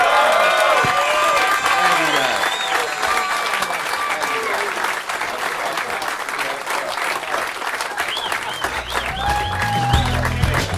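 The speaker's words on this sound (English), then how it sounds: "Give him a nice round of applause" A comedy talk-show studio audience claps and cheers in a sustained loud burst of applause, with whoops and raised voices rising through it and some talk near the end.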